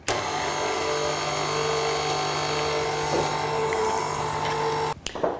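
Brownie batter ingredients whisked in a stand mixer in a home kitchen, a steady loud motorized whir with constant hum that runs unbroken for about five seconds, then cuts off abruptly near the end.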